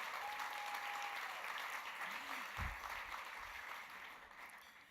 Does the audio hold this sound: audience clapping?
yes